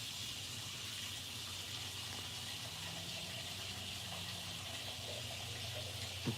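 Water running steadily from a tap while filling a container, a continuous soft hiss and gush at low level throughout, with a small knock at the very end.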